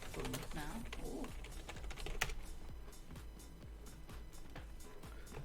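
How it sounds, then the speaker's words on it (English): Quick, continuous typing on a computer keyboard during online gaming, rapid close key clicks in an irregular stream with faint talk in the background. "I was typing it out"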